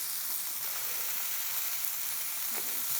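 Smashburger beef patties frying in bacon grease on a hot surface, a steady close hiss of sizzling fat with faint, occasional small pops and a light scrape, no voices.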